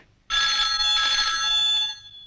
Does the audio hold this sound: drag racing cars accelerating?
no